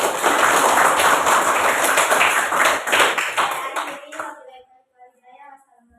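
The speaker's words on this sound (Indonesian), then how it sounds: "ya kita beri aplaus untuk kelompok 1" Classroom applause for a student group, a burst of many hands clapping close and loud for about four seconds before fading to scattered taps and quiet.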